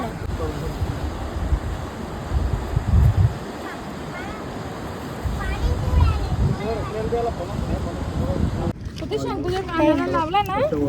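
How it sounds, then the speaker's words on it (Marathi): Rough sea surf churning along Devbagh Beach in Malvan, heard as a steady broad wash of waves with wind noise on the microphone, people talking over it and the rumble continuing throughout. "समुद्राचा खवळण्याचा आवाज"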